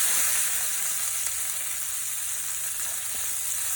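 Wagyu fillet steak fries in a pan with garlic and rosemary, giving a steady, close, loud sizzle that hisses on without a break and with no talking.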